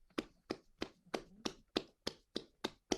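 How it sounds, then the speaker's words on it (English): Clapping from an online poetry reading audience: about ten crisp, evenly spaced hand claps, close and fairly loud, with no voices. "Give yourselves a round of applause, everybody who read."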